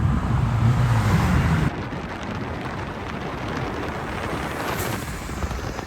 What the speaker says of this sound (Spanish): Como se escucha el turbo